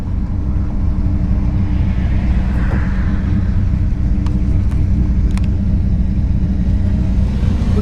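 A 1964 Ford Galaxie 500 with a 427 V8 and four-speed manual driving on the road, a loud, steady deep engine rumble heard from inside the car, continuous and close with no talking.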